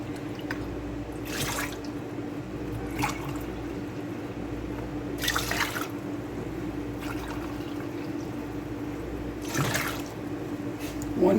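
Vinegar is poured into a pot in a few short splashing bursts, separated by quiet pauses over a low steady hum.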